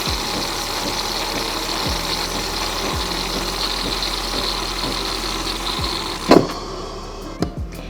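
A DeLonghi Eletta Explore coffee machine dispenses a layered drink with a steady, close mechanical hum broken by periodic low pump thumps, ending with a couple of sharper clunks and no voices.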